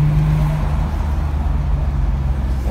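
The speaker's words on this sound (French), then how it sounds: "Tu entends les turbos parce qu'on est en K04, pression 1 bar 5." Tuned car with K04 turbos at 1.5 bar boost, heard as a loud, steady close-up engine drone with low rumbling harmonics and a faint whistle rising near the end.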